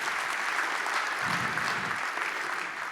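A conference audience at Droidcon Berlin gives a big round of applause, dense sustained clapping from many hands, steady and full throughout without talk.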